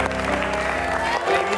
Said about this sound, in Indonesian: Boleh kita berikan tepuk tangan buat Tiara.